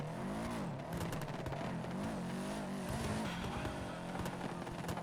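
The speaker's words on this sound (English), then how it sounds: "You can hear it burble tuning." Car engine in the FiveM driving game running a burble tune, a steady loud rumble with rapid crackling exhaust pops scattered throughout, heard alone without talk.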